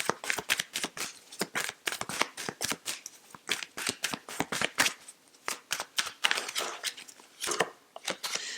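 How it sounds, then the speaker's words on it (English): Tarot cards being shuffled and drawn from a deck at a reading, a steady run of crisp, close riffling flicks and soft slaps with no talk. "I am going to draw one more card for this combination."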